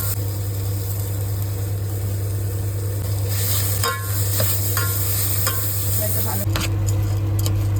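Spice masala with cumin and coriander powder frying in a pan, a loud continuous sizzle with scraping stirs and a low steady hum underneath, and a brief spoken word partway through.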